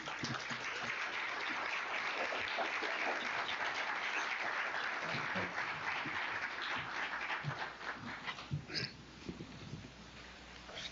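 Audience applause welcoming keynote speaker Dexter Sullivan at a college MLK Day celebration, steady broad clapping from a crowd that holds for most of the stretch, then thins and tapers into scattered claps near the end.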